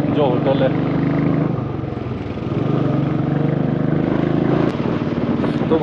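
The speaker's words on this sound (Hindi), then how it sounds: "तो भाई अब इस बाइक के पीछे पीछे ही जा रहे हैं" A motorcycle engine drones steadily just ahead on a hill road in Kausani in the Himalayas, its pitch rising and falling as it rides, with someone talking over it.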